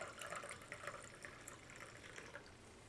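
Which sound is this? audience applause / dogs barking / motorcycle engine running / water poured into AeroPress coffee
water poured into AeroPress coffee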